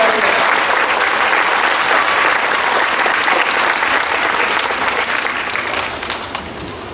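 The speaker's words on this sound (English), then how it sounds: "let's give those guys a round of applause." An audience at an 8th grade sendoff applauds, a dense and loud burst of clapping that holds steady for several seconds and then starts to fade.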